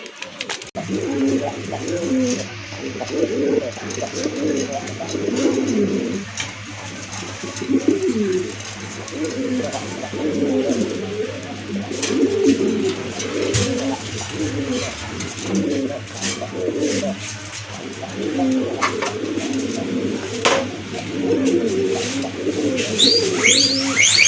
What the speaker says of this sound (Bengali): রাজগোল্লা কবুতর নিয়ে বড় পায়রা কবুতর নিয়ে মাসাল্লাহ এখানে বিগ সাইজের এক জোড়া বড় পায়রা কবুতর